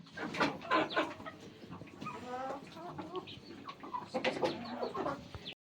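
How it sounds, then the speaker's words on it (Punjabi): Backyard chickens and young chicks cluck and chatter at feeding time, a close, busy mix of short calls over light ambient noise. "ਹੁਣ ਚੂਚੇ ਨੂੰ ਫੀਡ ਪਾਉਣੀ ਆ"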